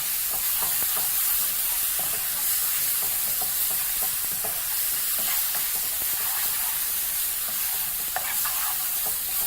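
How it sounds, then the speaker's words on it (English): Tomato mixture fries over high heat while being stirred constantly, with a loud, close, continuous sizzle and hiss broken by frequent scraping strokes, with no voices. "So just proceed to fry those at high heat."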